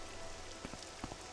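Rain falls in the Morrowind game on a mountain pass as a faint, even wash of hiss, with a few soft patters of drops landing near the end, quiet and distant, no voices.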